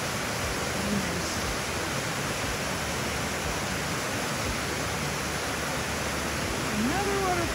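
Steady, broadband rushing water roars without pause, like a waterfall heard from nearby, constant and unbroken throughout.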